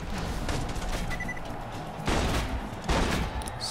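Shotgun fire in Borderlands 2, three or four sharp blasts spaced about a second apart amid busy game sound, fairly loud and close.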